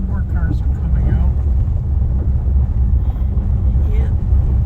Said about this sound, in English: More cars are coming out.